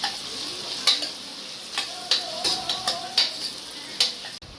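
Onion and a single green chili frying in a pan for mushroom biryani, a steady soft sizzle with several sharp stirring scrapes and clicks at irregular intervals, close and moderately loud, no talking.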